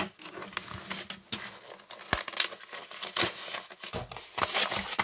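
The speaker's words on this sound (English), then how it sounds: "Scissors." Scissors snip and slice through a paper envelope up close, with crinkling and tearing of the paper between a few sharp cuts, heard alone without talk.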